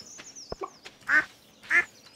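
Two clear, close quacks from a duck in the farming game Stardew Valley come about half a second apart, with a faint high tone and small clicks between them.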